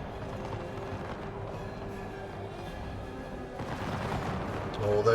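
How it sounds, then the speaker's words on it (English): Musket volleys crackle in Empire 2 Total War as troops charge into fire, a dense, distant rattle of shots that swells toward the end, blended with battlefield ambience. "Now you're just running straight into musket fire now."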